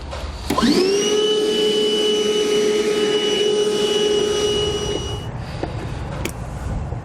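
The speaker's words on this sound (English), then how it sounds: "we'll take our vacuum, we'll go ahead and clean up all those shavings" A shop vacuum cleaning up metal drill shavings starts with a rising whine and runs steadily at a loud, droning pitch for several seconds before shutting off.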